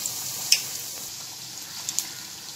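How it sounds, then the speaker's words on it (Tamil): Vegetable samosas deep-frying in hot oil, a steady soft sizzle with a few faint crackling pops, close and fairly quiet with no talk. "இப்போ வந்து இதை ஃப்ரை பண்ணிடலாம்"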